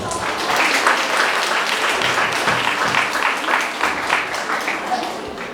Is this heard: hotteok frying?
no